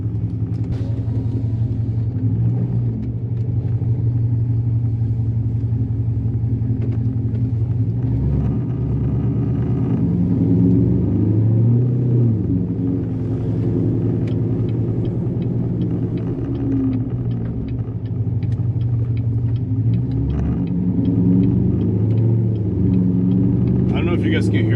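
A Corvette fitted with headers and straight pipes gives a steady, deep exhaust rumble with some swells in level, running under someone talking throughout.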